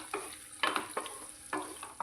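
Bottle gourd with turmeric and salt cooks in a pan, a soft sizzle broken by several brief scraping stirs in an irregular rhythm, faint and close with no talking.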